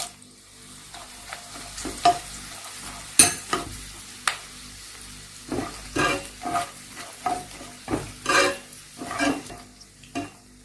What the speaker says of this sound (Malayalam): ഇനി മുളകിട്ട് വറുത്തെടുക്കാം